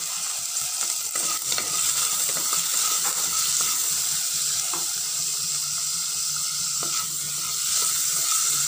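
Two chillies sautéing in a pan for Parai fish curry make a continuous, hissy sizzle throughout, with occasional faint clinks of a spoon against the pan, close and steady, no voices.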